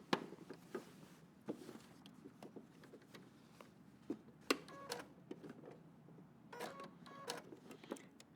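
Domestic sewing machine stitching the front of a denim jacket, with short bursts of rapid mechanical clatter separated by pauses, close and moderately loud.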